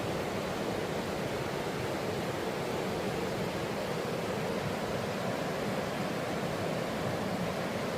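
A river flows beside a trail on the Rhododendron Trail, its steady rushing water a continuous, full hiss that stays even throughout with no voices.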